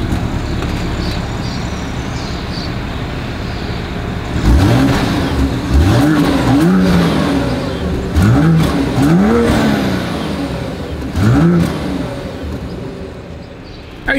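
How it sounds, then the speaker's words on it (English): A 2025 BMW X5's exhaust sounds off as the engine idles, then is revved in several sharp blips that rise and fall, loud and close, with no talk over it. "As always, here is that exhaust clip."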